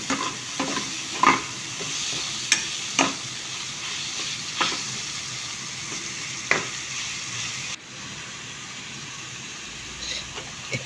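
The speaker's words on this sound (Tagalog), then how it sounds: "Kailangan natin igisa ng mabuti." Faint, steady sizzle of onions sautéing in a pan, with occasional sharp clinks and scrapes of a utensil stirring.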